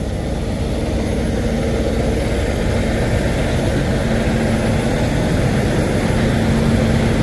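Custom big rig with a Cummins diesel engine runs at a chrome shop, giving a loud, steady drone with a constant low hum and no talk.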